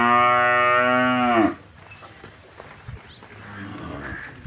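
A water buffalo of the Nili-Ravi breed lets out one long, loud, deep moo close by, followed by quieter farmyard background noise and faint movement.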